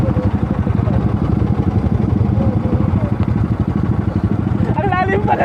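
A dirt bike motorcycle engine chugs loud and close in a steady, rapid low pulse while ridden through deep water on a rural road in Mangatarem, Pangasinan, with a rider's voice over it.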